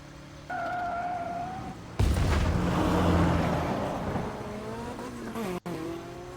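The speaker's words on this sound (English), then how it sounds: "The motorcycle roars at full throttle as we whiz through the N109 zone." A roaring motorcycle engine at full throttle sweeps past close by, with a rising whine and a sharp burst of noise midway, sounding like a game vehicle racing.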